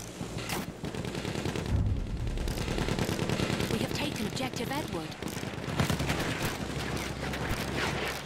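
Battlefield 1 gunfire rattles in dense, continuous bursts, loud and close, with automatic fire and heavier blasts layered over the game's battle noise.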